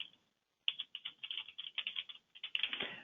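Typing a short note on a computer keyboard, a quick burst of close keystrokes in uneven rhythm after a brief pause, with a denser flurry of keys near the end.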